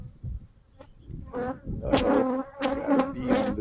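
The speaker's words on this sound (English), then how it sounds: "Got a bee under there." Honey bees buzz around an opened backyard hive while honey stores are checked, a steady droning hum that swells and rises in pitch as the insects pass close, with no talking.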